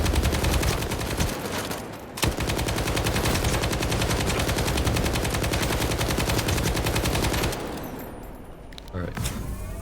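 Sustained automatic machine gun fire in the video game STALKER 2, loud, dense and rapid, with a brief gap near two seconds and the bursts thinning toward the end.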